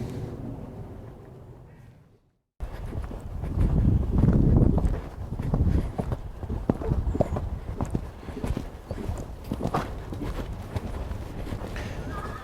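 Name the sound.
horse jumping over a fence, hooves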